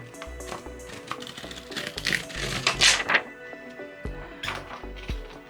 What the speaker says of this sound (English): There's this little plastic protector and it's very annoying, so I'm going to take it out